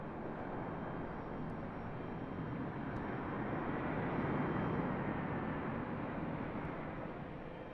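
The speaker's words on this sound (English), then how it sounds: "Oh, I hear an Apache." An Apache helicopter passes overhead near Raleigh-Durham International Airport as a continuous broad, rumbling roar that swells slightly midway and then eases, with no talking.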